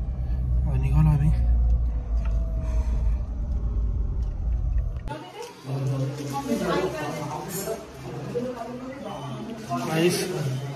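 A family car on the road with a steady low engine and road rumble inside the cabin, with people talking over it throughout.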